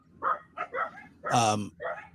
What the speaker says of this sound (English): there are at least close to a dozen dogs. You can hear them here.